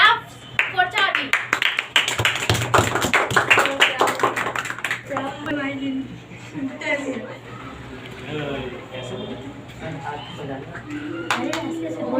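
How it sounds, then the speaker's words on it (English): Students clap together in an English-speaking classroom, a dense burst of handclaps that fades after a few seconds into chatter and voices. "Clap for Charvi."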